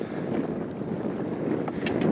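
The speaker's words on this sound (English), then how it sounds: "That wind's really picking up." Strong wind blowing outdoors buffets the microphone with a continuous loud, rough rush, steady throughout and with no talk over it.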